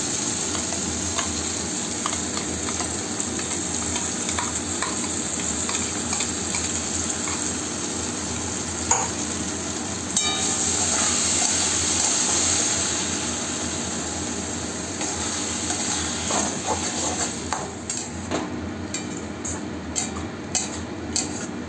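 Onion paste sizzles and fries in a pan with yellow turmeric nearby, a steady frying hiss under occasional scraping stirs, close and continuous with no talk.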